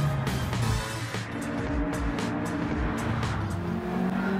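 Race car engines roar and tires squeal in the Gran Turismo 7 video game, a loud sustained engine note with rising and falling pitch sweeps and screeching tire skids, no talking.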